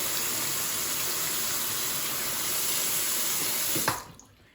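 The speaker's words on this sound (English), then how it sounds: "go ahead and fill this up with water." Water from a tap runs steadily into the small removable tank of an Oclean W1 oral irrigator, a close, continuous splashing rush that cuts off near the end.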